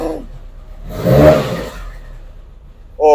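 A 1968 Alpine Renault 1300S with a rear-mounted engine and city exhaust gives a throttle blip: idle, one strong rev rising and falling around the middle, then another rev starting at the end, close by.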